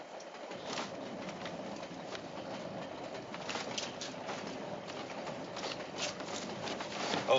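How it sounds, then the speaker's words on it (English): Continuous rumble and rattle of a moving passenger train interior at roughly 60 to 70 miles an hour, with rhythmic clatter and faint squeaks, moderately quiet and steady. "How fast is this train going?"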